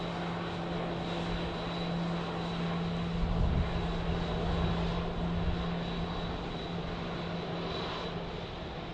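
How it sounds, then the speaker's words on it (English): A Southwest Airlines airliner landing at Dallas Love Field gives off a loud, continuous engine roar that swells briefly near the middle as it touches down and then settles, heard alone without speech. "That was a silky smooth landing."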